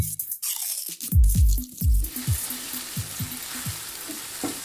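Spices and ginger-garlic paste frying in a pan, a steady close sizzle with a few sharp spoon scrapes and stirring knocks early on, settling into continuous frying hiss.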